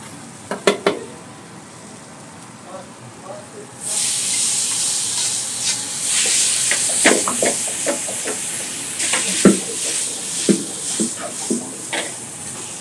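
Quiet clicks and taps, then a sudden loud sizzle as garlic and tomato hit a hot pan, crackling steadily with occasional stirring knocks.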